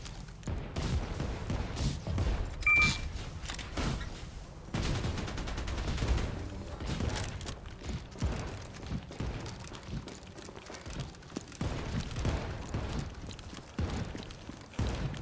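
Smart mortar guardian firing in the sci-fi game Outpost Infinity Siege, a string of muffled thumps and bursts of gunfire rolling through a battle scene at moderate distance.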